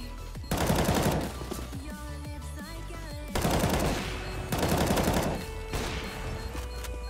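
Automatic rifle gunfire in the video game CS:GO, three loud sustained bursts separated by short gaps, with faint game sounds between them.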